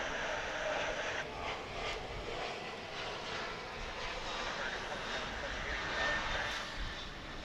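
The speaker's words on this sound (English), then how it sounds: "Pretty decent look at this Emirates plane now" Emirates passenger jet at DFW International Airport, a steady broadband engine roar that stays loud and constant throughout without clear rise or fade.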